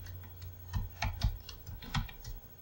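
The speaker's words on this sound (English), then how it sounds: "Now I can probably type in load" Close, quiet keystrokes on a computer keyboard form a short, uneven run of about a dozen clicks with a faint hum beneath, alone without speech.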